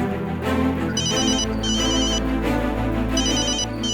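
A phone rings loudly and continuously as a call is placed to a young woman's mobile in a Hindi crime drama, an electronic ringtone pattern repeating over a steady background.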